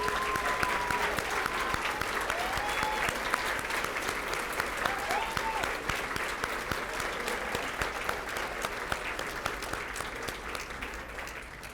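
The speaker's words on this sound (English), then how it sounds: "give you a round of applause" An audience claps for parents at a school district awards ceremony, sustained dense applause filling the room at even loudness throughout.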